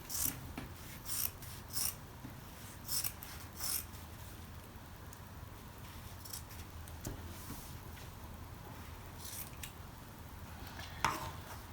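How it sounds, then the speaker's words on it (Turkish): Scissors cutting through fabric for a bolero, giving a series of short rasping snips early on and another near the end, over a low, quiet background with no speech. "Buradan yaka kesiyorum. kollarını kesiyorum."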